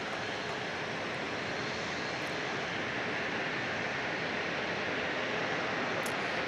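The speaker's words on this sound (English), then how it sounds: "Southwest Airlines taking off to San Jose." A Southwest Airlines jet takes off from San Diego International Airport toward San Jose with a continuous loud broadband engine roar that holds steady throughout, and no voices are heard.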